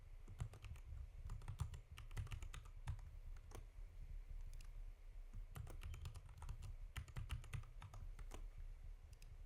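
Keys on a computer keyboard are typed in quick irregular bursts with short pauses, soft and close, while a password is entered.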